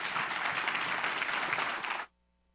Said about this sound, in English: Ladies and gentlemen, big round of applause for Victor Wang.